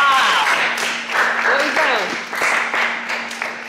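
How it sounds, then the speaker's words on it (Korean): Applause and cheering for Sohee, a RIIZE member, from a small group of bandmates in a studio, steady clapping mixed with excited shouts and voices throughout. "박수 쳐주고 끝낼까?"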